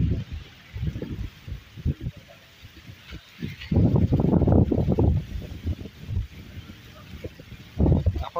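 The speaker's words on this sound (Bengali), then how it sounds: "মোবাইলে হাওয়াটা লাগছে, বুঝতে পারছো নিশ্চয়ই কত জোরে ঝড় হচ্ছে।" Strong Kalbaishakhi storm wind at Sagar Island buffets a phone microphone, producing loud, gusty low rumbling bursts that swell and fade, heaviest midway through and again near the end.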